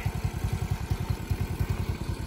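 A Delta X 125 motorcycle engine running during break-in, a close, even low putter with a regular rhythmic chug, steady and moderately loud, no voices.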